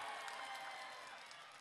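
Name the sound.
audience applauding at a political speech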